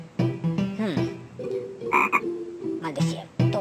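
Video game frog croaking after a wizard's curse turns the player into a frog: a busy run of loud, repeated croaks with rising and falling tones and a few brighter chirps, close up with no talk.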